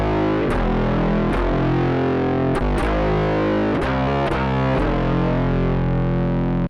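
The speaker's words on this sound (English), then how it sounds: "that fuzz right there is this crazy clone I made of the Earthquaker Devices life pedal" Electric guitar through a homemade clone of an Earthquaker Devices fuzz pedal into stereo chorus and EQ with highs cut, run straight out with no amplifier; a loud, saturated, dense wall of sound with rhythmic chord stabs and brief gaps.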